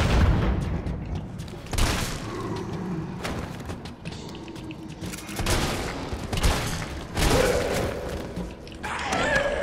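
Gunshots in Resident Evil 3 Remake, several broadband blasts spaced a few seconds apart over a dense, rumbling game soundscape, fairly loud and close.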